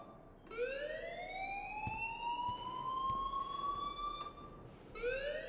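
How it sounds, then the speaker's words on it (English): In the Life is Strange video game, an alarm wails in long rising sweeps that hold and then restart, loud and continuous over a busy background. "please turn off that alarm since that's your job"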